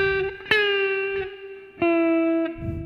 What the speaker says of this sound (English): I really love reverse bendings on clean tone